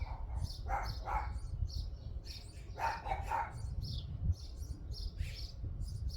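Several dogs bark at a distance in short intermittent bursts, faint and muffled beneath a steady low rumble of background noise.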